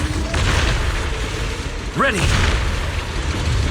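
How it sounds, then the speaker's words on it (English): Heavy booming explosions in the video game Zenless Zone Zero roll on continuously amid combat noise, while a voice briefly shouts partway through. "Move in during the gaps between explosions."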